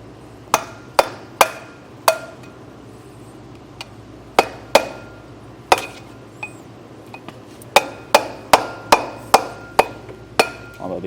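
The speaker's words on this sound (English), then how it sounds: "take a flathead screwdriver, usually one of the fatter ones if you have it, and then a hammer, and we're just gonna kind of beat down on our grease seal" A hammer strikes a flathead screwdriver, driving out a grease seal on a Dexter trailer axle hub. The sharp, ringing metallic taps come close and loud, singly and in quick bursts, with short pauses between groups.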